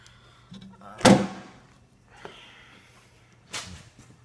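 A solid thunk of a 1985 BMW 535i door shutting imperfectly, followed by a couple of quieter knocks and a second softer shut a few seconds later.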